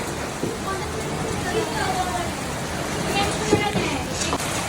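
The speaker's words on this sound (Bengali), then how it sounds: "দোকানে আসার পরে এরকম ঝড় বৃষ্টি শুরু হয়ে গিয়েছে" Heavy storm rain pours down in Dhaka city by a shop as a constant dense hiss, with a person talking over the downpour.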